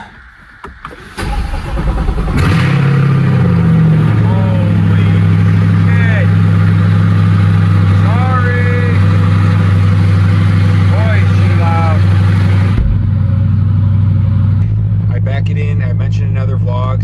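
A C8 Corvette fires up from a cold start, catching with a burst before settling into a loud, steady idle with a low drone and a change in pitch near the end, while someone talks over it.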